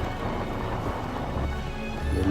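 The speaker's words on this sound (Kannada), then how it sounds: "ನೋಡಿ, ಮಳೆ ಮಾತ್ರ ಕಂಟಿನ್ಯೂಸ್" Steady monsoon rain pours down continuously on a bike ride toward Chikkamagaluru in Malenadu, a dense even hiss of rainfall with a low rumbling undertone and no voices.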